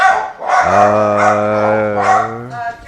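A house dog answers the doorbell with a long, drawn-out, loud bark that bends into a howl, close and dominant, with a second yip near the end.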